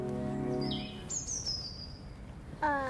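Garden birds chirp outdoors: short, high chirps and sliding tweets at moderate distance, with a faint background hum and a louder tonal call at the end.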